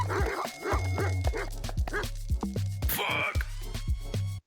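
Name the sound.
dogs barking while chasing, from a video game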